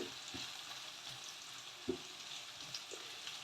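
Curry leaves on the stem sautéing in a pan for a home-style Kerala chicken curry, a soft continuous sizzle with a few faint stirring clicks and small pops, quiet and close.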